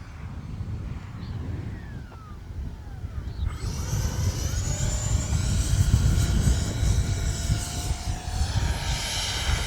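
X-Fly F-22 Raptor twin 40mm electric ducted-fan RC jet on a 4S battery, flying at full speed in wind, a steady loud whine with rising and falling pitch as it passes, buffeted by wind noise throughout.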